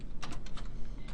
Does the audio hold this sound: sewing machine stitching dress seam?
no